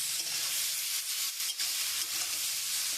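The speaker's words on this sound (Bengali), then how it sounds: "এবার আমি টমেটোটা দিব। টমেটো দিয়ে নাড়বো।" Tomato goes into a hot frying pan and gets stirred while cooking in a village kitchen, giving a continuous bright sizzle with soft scraping and stirring movements, close and with no voices.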